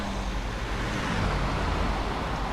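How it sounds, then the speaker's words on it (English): Road traffic in Euro Truck Simulator 2 forms a continuous low rumble of passing vehicles, broad and steady, with no voices. "There's some traffic, not a lot of traffic."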